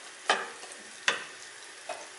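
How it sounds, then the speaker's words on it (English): Chopped onion sizzles steadily in a hot pan, with three scraping stirs of a utensil at roughly even intervals. "I will fry the onion for about 2 minutes."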